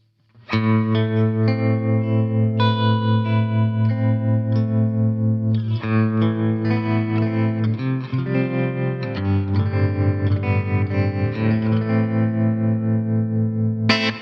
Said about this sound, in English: and now let's hear the tremolo.